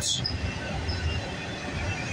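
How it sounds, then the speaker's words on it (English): A CN auto rack freight train rolls past at night, a steady moderate rumble of wagons with faint wheel noise, heard without talk. "So we got an auto rack train going by"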